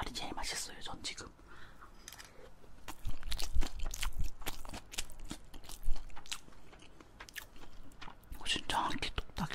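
Close crunchy bites and wet chewing of marinated boneless crab with rice, soft and intimate, with whispered talk between mouthfuls.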